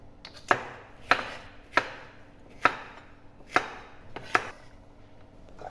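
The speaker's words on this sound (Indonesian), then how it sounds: "Potong-potong semua bumbu sampai selesai." A knife chops spices and aromatics for biryani on a cutting board. About seven sharp, evenly spaced chops sound close and clear, with quiet between strokes and no voices.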